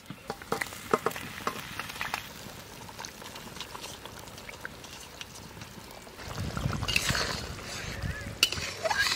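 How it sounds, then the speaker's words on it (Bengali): Fried fish goes into a simmering thin fish curry, first a quiet bubbling with small clinks, then a louder burst of sizzling and bubbling near the end, with some talk faintly underneath. "এখন ঝোলের উপর দিয়ে দেবো ভাজা মাছ।"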